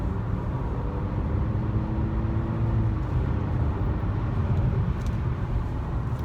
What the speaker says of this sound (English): Hopefully you can hear how the engine purrs.